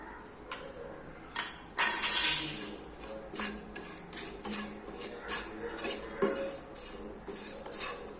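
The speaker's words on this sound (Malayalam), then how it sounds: "ഇനി ഇതെല്ലാം കൂടെ നമുക്ക് നന്നായിട്ടൊന്ന് മിക്സ് ചെയ്ത് കൊടുക്കാം" A spoon clinks and scrapes against a pan in irregular taps while ground spices are stirred into a ginger curry mixture; there is one louder clatter near the start.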